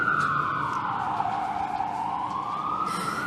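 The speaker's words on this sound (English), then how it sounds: "I'll just let that siren go." A police siren wails continuously outside a press conference, its pitch sweeping slowly down and back up as it passes, fairly loud and steady with no talk over it.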